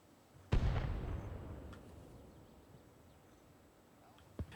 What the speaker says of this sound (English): Go ahead and work those mortars about 100